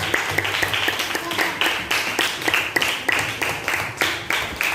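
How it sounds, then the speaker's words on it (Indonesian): A classroom of students applauds two student groups during a school lesson, giving a steady, rhythmic round of many hands clapping together at moderate loudness for several seconds. "Kasih aplaus untuk dua kelompok yang sudah berani maju."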